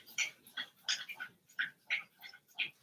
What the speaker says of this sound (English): It's my dog drinking her water.